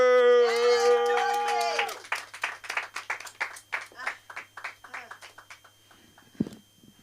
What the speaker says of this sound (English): keep clapping it up for George Sylvester